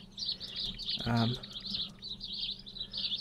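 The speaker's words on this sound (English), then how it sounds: "that bird sound is so annoying" Repeated high bird chirps from the War Z video game ambience run steadily throughout, with a brief burst of talk near the middle.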